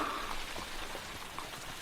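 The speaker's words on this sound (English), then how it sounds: "Rain. On and on." Steady rain falling as an audio drama sound effect, a soft continuous hiss with scattered droplet patter, moderately faint and heard alone.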